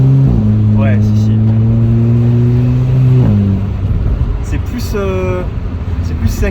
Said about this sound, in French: Et on entend beaucoup le turbo, ça j'aime beaucoup.